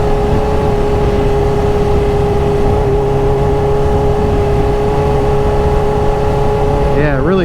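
A Kawasaki H2 motorcycle cruising easily, its engine holding a loud steady whining hum from the rider's position with wind noise, and a voice talking briefly near the end.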